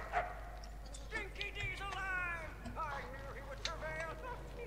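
A dog in the Mad Max video game lets out a few short, high whimpering yips and barks, faint and close, over a low background hum with someone talking.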